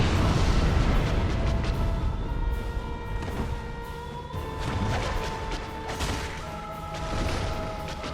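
A rumbling, crashing explosion in the Dark Souls video game, fought inside the asylum area, rolls on in heavy low booms over sustained tonal game music and ambience.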